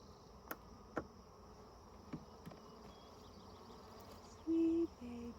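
Honeybees buzz faintly and steadily from hive 1 during a week-four beehive inspection, a low drone with a few soft knocks and a brief louder tone near the end.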